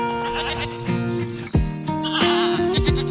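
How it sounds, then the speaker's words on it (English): Goats bleat in an open nature reserve, several drawn-out wavering calls overlapping one another, loud and fairly close, with faint outdoor background. "Here you can see some of the goats relaxing."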